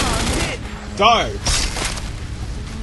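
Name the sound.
gunfire and explosions in video game The Godfather II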